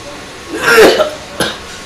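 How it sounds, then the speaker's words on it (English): A person smoking a hookah coughs: one harsh, close, loud burst, then a second shorter cough a moment later. "See, I'm just started coughing already."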